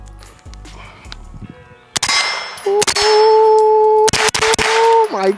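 An LWRCI IC-9 pistol-caliber carbine fired at a range: several sharp, loud shots in an uneven string, each a hard crack with a metallic ring, over a steady tonal hum.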